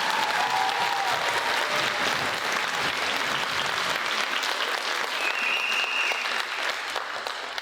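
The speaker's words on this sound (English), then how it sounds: "Please give them a round of applause" Applause for a high school orchestra at a spring concert, sustained clapping from the audience that holds steady for several seconds and softens slightly toward the end.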